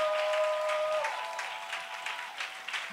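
Congregation at a church service claps and applauds together in a sustained burst, the clapping continuing steadily after a sung or held tone fades.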